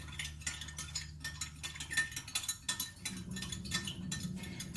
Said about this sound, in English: Give that a bit of a mix.